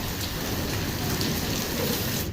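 Heavy rain pours down during a violent night storm, a dense, loud and constant roar of drops with no let-up and no voices.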